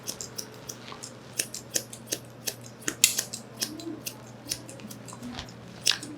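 Scissors snip steadily through thick dog fur during a lamb clip grooming session, a rapid series of sharp, close metallic cuts with short pauses between them and no talking.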